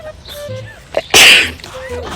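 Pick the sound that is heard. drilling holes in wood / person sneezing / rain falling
person sneezing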